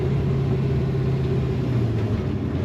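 A 1967 Pontiac Firebird pro touring car's V8-style engine rumbles steadily from inside the cabin as it downshifts, a loud continuous low drone with a slight lift in pitch, no talk over it.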